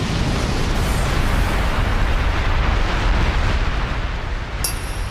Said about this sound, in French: Explosion dévastatrice de Léon